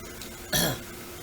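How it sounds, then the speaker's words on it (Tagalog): One quick, rough throat clear, a short harsh burst up close against a steady low background noise. "Sorry po sa mga ubo ko."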